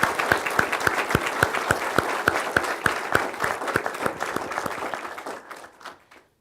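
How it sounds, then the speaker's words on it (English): Ceremony audience applauding an honoree at an alumni recognition event: a full, even burst of many hands clapping, with some individual claps standing out, fading away near the end. "Please, a round of applause for Dr."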